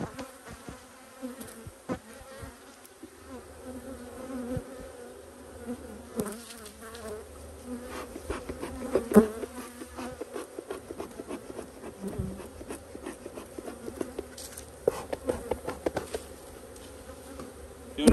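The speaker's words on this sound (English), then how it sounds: "Notice that the bees are looking for their hole right here. This is their new entrance." Honey bees buzzing around an open hive entrance, a dense continuous drone of many insects close by, with individual bees swelling louder as they pass near.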